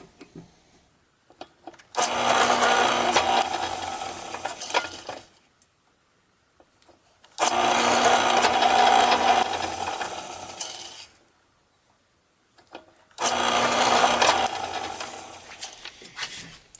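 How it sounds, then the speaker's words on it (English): A drill press bores halfway into wood for a dog pull toy, three separate loud whirring passes of about three to four seconds each, separated by near silence. "I've set the base of this drill press such that it will act as a stop and only go down halfway"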